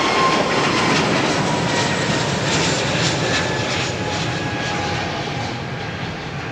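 Aircraft engines roar steadily and loudly near runway 27R at London Heathrow Airport, a broad sustained rumble that fades slightly toward the end, with no voices.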